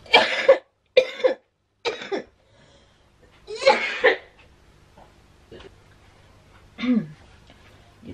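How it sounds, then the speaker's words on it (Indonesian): A string of harsh coughs, three quick ones then a heavier pair, followed by a softer cough and a throaty hack near the end. "Kalau lagi batuk ke kambuh"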